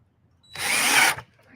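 A power drill drives a screw into a wooden cap on a raised garden box, a single loud whirring burst of about half a second that starts and stops abruptly in an otherwise quiet space.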